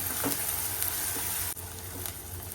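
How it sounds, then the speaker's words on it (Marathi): Three large finely chopped onions sizzle and fry steadily in a pan as they are sautéed for a mutton kheema, a continuous close hiss with faint stirring scrapes. "हे घालते कांदा छान परतून घेते"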